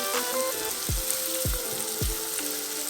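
Curry spices sauté in a pan with a steady, close sizzle and crackle, while three dull knocks or stirring bumps land at an even pace beneath a faint melody.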